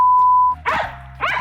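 A dog gives two quick loud barks close by, a short whining tone before them.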